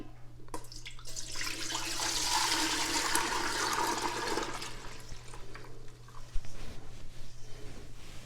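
Rhubarb juice is poured from a container back into a pot, a continuous splashing, trickling rush of liquid that swells and then tapers off over several seconds, fairly close.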